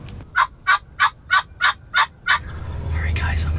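A wild turkey tom gobbles in a run of seven sharp, evenly spaced calls close by at the edge of an Illinois field, followed by a quieter murmur of outdoor noise.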